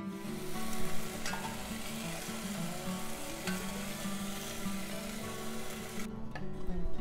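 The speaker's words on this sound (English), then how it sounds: "Cook and stir over medium heat for a few minutes using a wooden spatula to release any flavorful" Apple cider vinegar and beef broth are stirred with a wooden spatula in a beef stew pot over medium heat, giving a steady, close hissing sizzle with soft scraping throughout, and the sizzle thins out near the end.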